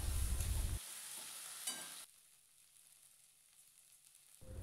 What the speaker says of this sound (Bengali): এরপর আবার আমি ভালোভাবে মশলাটাকে কষাতে থাকবো যতক্ষণ না মশলাটা রেডি হচ্ছে